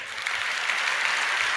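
An audience gathered for a sermon breaks into clapping. The dense, even applause is steady and moderately loud for under two seconds, with no speech over it.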